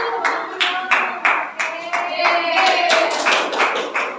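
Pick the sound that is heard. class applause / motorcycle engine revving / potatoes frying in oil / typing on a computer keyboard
class applause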